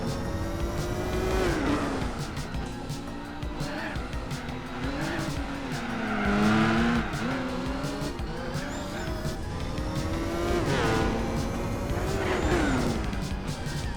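Engine roar and sustained tire squeal from a Nissan Skyline sliding through a corner during a rally event in Gran Turismo 4, with the squeal rising and falling in pitch over a constant drone.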